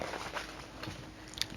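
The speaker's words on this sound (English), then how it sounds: "They chomped at the roof and chewed at the floor." Crunchy biting and chewing like children munching on a gingerbread house, a quiet run of close, soft mouth crunches with a sharper bite near the end, and no voices.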